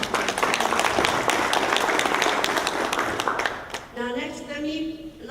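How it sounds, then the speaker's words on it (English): Audience applause at a chamber of commerce conference event, a steady patter of clapping from a crowd that fades after a few seconds as a voice starts talking. "let's give him one more round of applause"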